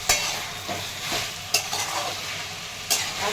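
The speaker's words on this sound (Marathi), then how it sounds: "छान मिक्स करून घ्यायचं आहे" Dry potato sabzi being mixed in a pan, three sharp spoon scrapes against the metal spaced over a continuous loud sizzle, heard close with no talking.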